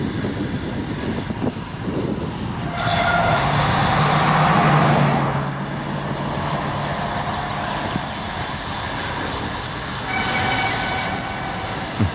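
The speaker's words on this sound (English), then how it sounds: "The train just passed." Train rolling past nearby with a sustained rumble and metallic rail screech, swelling loudest early on and then holding a steady clatter as the cars go by.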